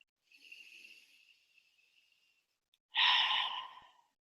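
A breath during a relaxation breathing exercise: a soft, faint airy inhale drifts in first, then after a pause comes one louder, close, breathy exhale that fades away into quiet.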